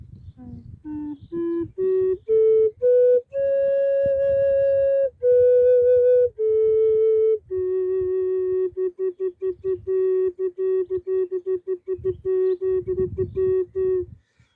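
An ocarina climbs and descends a scale, notes clear and sustained, then repeats tones in quick tongued articulations, close and bright.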